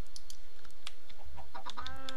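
Chickens in the Minecraft video game give a few short clucks and squawks over a soft background, ending with a rising, tonal cluck near the end.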